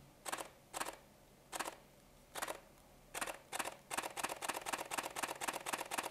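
A Canon EOS R6 mechanical shutter in single shooting mode clicks sharply and close, each a crisp double snap, spaced irregularly at first and then fired in quicker succession.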